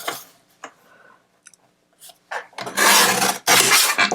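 Paper sheets being cut to size for mini composition books, a few short scrapes early on, then two long loud rasping cutting strokes close up with no talk.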